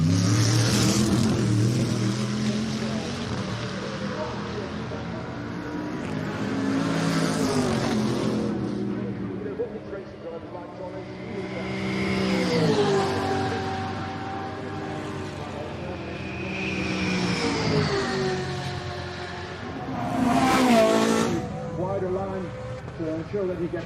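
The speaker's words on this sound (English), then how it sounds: "A little bit of a trip onto the grass for Rob Huff as they come over the line" Race cars crossing the finish line at the Goodwood Members' Meeting, engines roaring and swelling past in waves, under near-continuous commentary.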